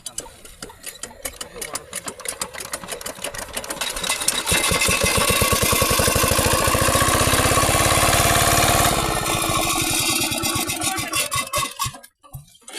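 An old 5hp diesel engine driving a water pump in a village is hand-cranked to start. Uneven chugging builds into a loud, steady, rapid thumping run, then slows and falters, with people talking throughout.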